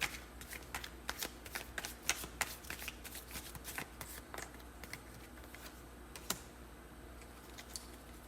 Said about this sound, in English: I'm going to get one more card.